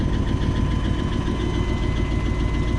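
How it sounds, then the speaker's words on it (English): A tow truck's engine idles steadily and loudly up close, a continuous rumbling drone with faint ticking that suggests a slight exhaust manifold leak when cold. "Has a little bit of exhaust leak."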